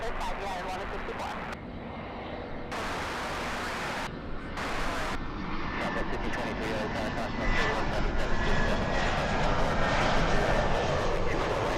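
A Boeing 737 airliner rolls down runway 24 left at LAX, a steady roar of jet engines that builds and grows louder over about twelve seconds and then holds, with constant broadband airport noise underneath.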